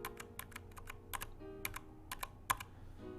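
Tactile mechanical keyboard switches, a bare switch and then one with a keycap, are pressed one at a time in short irregular bursts of crisp clicks and clacks, close up and quiet, with no talking.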